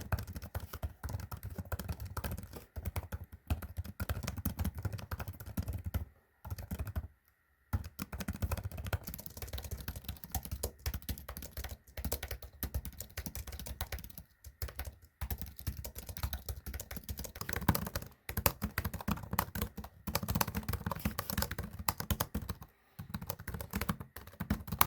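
Someone types continuously on a Samsung wireless keyboard, a quiet close patter of key clicks in irregular bursts with a few short pauses between runs.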